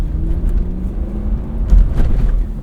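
A 2000 Lexus LX 470 with a V8 and 290,000 miles pulls away from a stop, a deep, low engine rumble that builds in volume as it accelerates, heard from inside the cabin.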